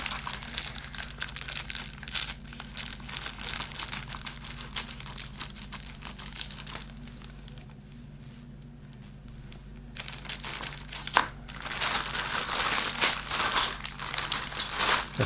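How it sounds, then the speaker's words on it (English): Scissors cut open a crinkly plastic bag around a Hasegawa 1/72 scale Grumman A-6A Intruder model kit, giving steady close crackling and rustling that grows louder and busier near the end. "I shall find a decent pair of scissors and just cut it open."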